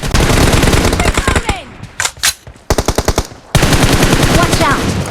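Rapid bursts of automatic gunfire from a BGMI/PUBG match, loud and close, in repeated volleys with brief gaps and a short lull of scattered shots midway before heavy firing resumes.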